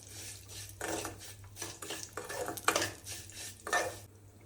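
Cashews and almonds stirred in ghee in a pan, a utensil scraping and clinking against the metal in repeated close bursts, with no talking.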